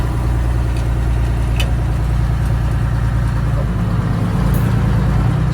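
An old two-stroke truck engine runs loud and close at a construction site for a shop pad, with a steady, unbroken low rumble and drone and no voices over it.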